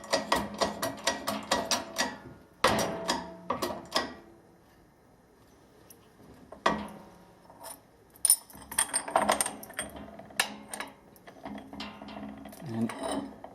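A socket is used to press and tap bearings into a club bicycle's frame or hub during recommissioning. Close clicking, scraping and ratcheting metal-on-metal sounds come in irregular bursts, with brief pauses between them and no talk.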